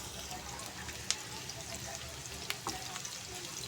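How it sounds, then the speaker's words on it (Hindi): Thinly sliced onion frying in a pan for mixed dal tadka, a soft, steady sizzle close by with a couple of faint clinks, quiet overall. "ये देखिए आपके सामने मैंने थोड़ा सा प्याज डाला है, बारीक बारीक स्लाइस में काट कर, ये जल्दी फ्राई हो जाएगा"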